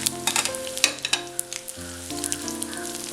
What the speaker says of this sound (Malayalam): ഞാനിത് ഒരു പ്രാവശ്യം കൂടെ ഒന്ന് വറുത്തെടുക്കുവാണ്